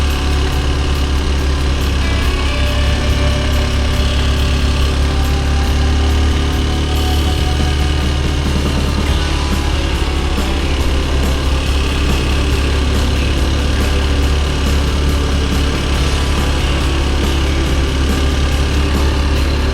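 Honda XR150L motorcycle engine held at steady, moderate revs while climbing a mountain road, a loud continuous close-up drone with wind rush and no speech throughout.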